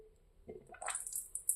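A portable travel bidet sprays water in a brief hissing burst that starts after a moment of near silence, builds into a thin, close spray and sputters on with a couple of sharper spurts.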